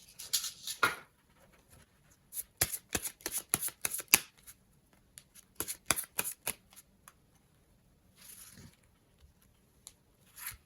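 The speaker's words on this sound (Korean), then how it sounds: "제가 다음 카드 한번 뽑아보도록 해볼게요" Tarot cards are shuffled and drawn in quick bursts of crisp flicks and riffles, close and clear, with pauses between clusters and no talking.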